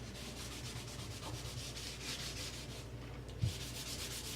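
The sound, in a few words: scrubbing a kitchen sink by hand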